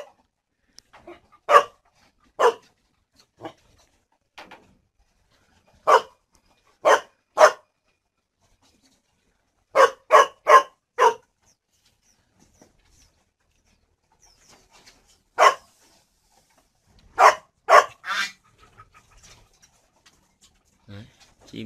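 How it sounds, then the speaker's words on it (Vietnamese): A dog kept to guard turtle doves at a bird-breeding farm in northern Vietnam barks in sharp, close bursts, singly and in quick clusters of two to four, with quiet gaps between. "Chó nuôi chó để trông chim."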